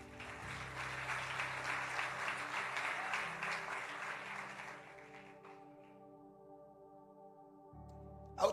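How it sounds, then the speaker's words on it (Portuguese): A congregation claps in church at the close of a sermon on the crucifixion, dense applause over a sustained organ or keyboard chord, fading out after about five seconds and leaving the held chord ringing alone. "Pode aplaudir mais uma vez?"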